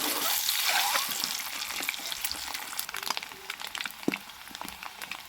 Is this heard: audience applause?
no